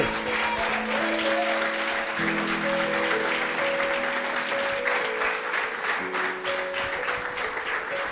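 Steady applause from a large church congregation fills the whole clip, with sustained music tones ringing underneath.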